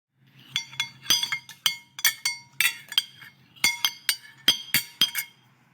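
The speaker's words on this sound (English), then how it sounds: "the sound of cutlery, which is the sound of knife and fork over a dinner plate" Knife and fork clinking against a dinner plate in a run of sharp, close metallic taps and scrapes, about a dozen uneven strikes, with no talk.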